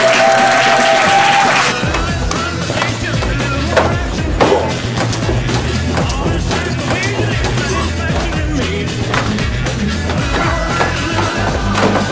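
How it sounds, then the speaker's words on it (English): A crowd applauds Grandmaster Jim Brassard at a Shaolin Kempo Karate event, a brief burst of clapping that gives way to music and thumping rhythm continuing loudly throughout. "big round of applause for Grandmaster Jim Brassard"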